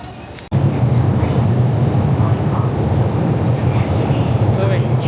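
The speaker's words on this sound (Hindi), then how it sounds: "तो भाई बैठ गए मेट्रो के अंदर" Inside a Guangzhou Metro Line 3 train in motion, a loud, steady rumble and roar fill the carriage after an abrupt start. The noise carries on without a break, with faint tonal whines above it.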